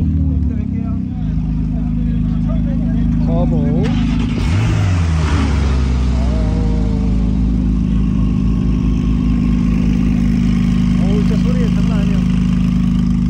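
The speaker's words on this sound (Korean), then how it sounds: "계속해서 차들이 들어오고 있고요" Porsche engines rumble and idle nearby at a Porsche club 70th anniversary gathering of over 100 cars, one revving as vehicles roll in, with people talking over the steady engine noise.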